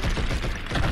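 A quick burst of rapid gunfire in the video game Blood and Bacon, dense and rattling for about a second, with no voices.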